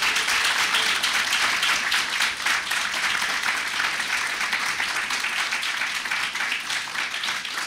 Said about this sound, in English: I want everyone to give a round of applause to our wonderful panel.